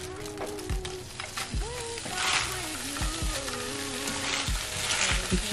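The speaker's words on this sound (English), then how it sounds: "Let that cook that spinach and onions down." Spinach and onions with their leaves and stems sizzle and fry in a pan, a steady close crackle broken by scraping and stirring clatter, while a voice talks over the cooking.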